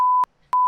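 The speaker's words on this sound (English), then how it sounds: "I'll bleep all this out." A censor bleep sounds as two loud, pure electronic tones, one ending and another starting after a short silent gap, clean and close with nothing else around them.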